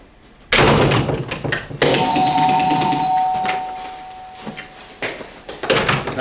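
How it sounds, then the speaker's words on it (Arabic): A household doorbell rings loudly and close by, its tone holding for a couple of seconds. Thumps and knocks around the door frame it. "هدول الولاد أبو تحسين، ما بدهم يبطلوا العادة السيئة هي يطنوا الجرس ويهربوا."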